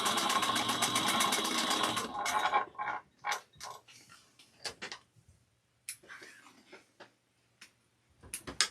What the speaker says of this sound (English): I'm just gonna bring that over to the machine and go over the last stitch that it stopped catching and back stitch